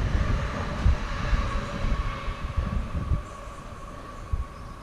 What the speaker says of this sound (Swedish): det där tåget hördes knappt någonting när det körde förbi